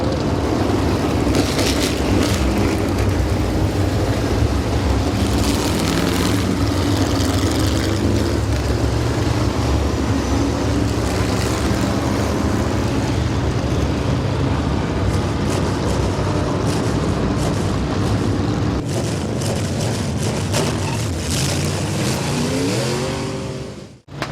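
Crate engine modified race cars roar around a speedway oval in a continuous loud wall of engine noise, with revs rising and falling as cars pass, and no talk.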